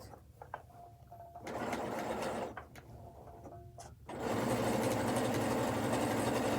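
A sewing machine does free-motion stitching with white thread on white fabric, its steady mechanical whir running in stretches and stopping briefly between them, close and fairly quiet, with no talking.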